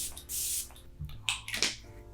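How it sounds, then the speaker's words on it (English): Two short hissing bursts of Morphe Luminous Setting Spray misted onto a face, a longer spritz near the start and a brief one at the end, close and fairly soft, with light handling clicks in between. "I want to spray the face a little bit with the Morphe Luminous Setting Spray."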